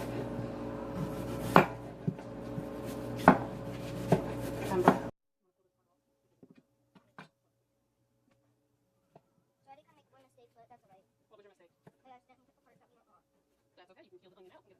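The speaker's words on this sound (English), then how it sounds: "And then we're just going to slice it." A knife slices through an onion on a cutting board in a few firm, evenly spaced cuts, then near silence follows with faint, quiet talk and small clicks.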